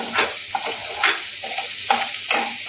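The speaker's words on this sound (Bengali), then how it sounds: "আদা রসুন আর কাঁচা লঙ্কা কুচিটার মধ্যে দিয়ে দেবো হালকা একটু নেড়ে দেব" Chopped ginger, garlic and green chilli stirred in a frying pan with a little oil, a steady close sizzle broken by several scraping strokes of a spatula at a loose, regular rhythm, no voices.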